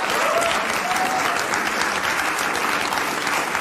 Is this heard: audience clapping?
yes